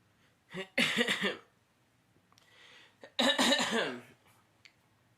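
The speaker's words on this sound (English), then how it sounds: "I want to stop coughing on the mic" Two harsh, noisy bursts a couple of seconds apart, close to the mic, with a faint softer rasp between them.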